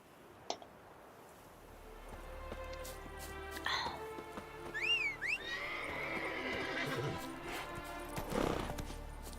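Roach, Geralt's horse in The Witcher video game, gives a clear whinny mid-clip over steady clip-clop hooves and ambient game sound, with a voice talking briefly.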